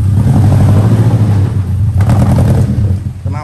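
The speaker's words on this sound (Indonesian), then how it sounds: "Knalpot, pakai knalpot HKS dan suaranya kayak Jetstar ini." A 2004 Zebra Espass pickup engine fitted with an HKS exhaust, revving loudly and close by as a continuous low rumble that swells and eases, with a brief rattling clatter near the end.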